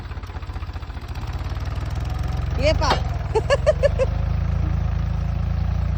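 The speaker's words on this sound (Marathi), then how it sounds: "ट्रॅक्टर दमवतोय डायरेक्ट वाढायला" A tractor's engine runs in a farm field where it has come to cut furrows, a steady low throbbing idle that continues throughout, with a voice speaking briefly over it midway.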